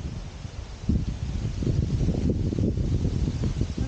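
Wind gusting by Lake Almsee in the Austrian mountains, a steady low rumble of buffeting against the microphone that strengthens after the first second and keeps roaring without pause.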